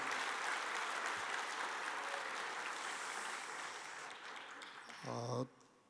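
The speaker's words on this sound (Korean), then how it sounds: "다시 한번 박수로 격려해 주시기 바랍니다" Audience applause fills a hall at a national church elders' assembly opening worship service, a steady wash of clapping that gradually fades, with a brief voice near the end.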